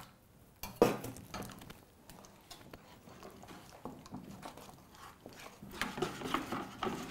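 Beef pancake batter is whisked in a bowl, giving quiet, uneven clinks and taps of the whisk against the sides, with a louder knock early on and busier rattling toward the end.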